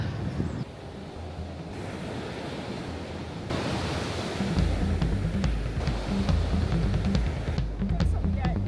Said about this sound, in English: we are absolutely pounded by the waves